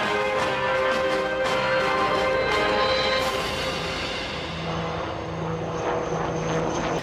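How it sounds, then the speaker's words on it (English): Indian Coast Guard Advanced Light Helicopters Mark III fly past at the Aero India 2023 air show in Bengaluru, a steady loud rotor and engine drone that holds throughout with a faint shifting whine. "Right behind in the beautiful blue and white livery are the advanced light helicopters Mark III of the Indian Coast Guard."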